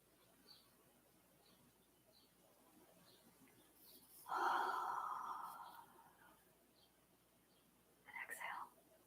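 A slow, deep breath drawn in during a guided breathing exercise, a soft airy inhale swelling for a second or two in a quiet room, followed later by a shorter breathy sound, faint and close.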